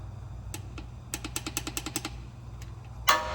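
A torque wrench ratchets a transmission drain plug tight on a 2011 Toyota Tacoma to 27 foot-pounds, giving a quick run of about nine evenly spaced close clicks over a steady low hum, followed by a sharper knock.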